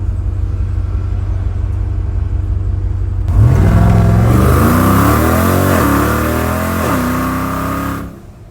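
A twin-turbo 1000-horsepower RAM 1500 pickup sits at a low rumbling idle, then its engine roars loudly up through a few rising and falling revs before it drops back and fades, all close by with no talking.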